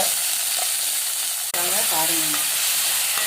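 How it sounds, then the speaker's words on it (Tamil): Onion, tomato, brinjal and drumstick sauté in a pan for a tamarind curry, a steady close sizzle with stirring scrapes and a sharp clank of a spoon against the pan midway. "வெங்காயம் தக்காளி வதக்கிக்கிட்டு கத்திரிக்காய் முருங்கைக்காய் போட்டுட்டு நல்லா வதக்கணும்."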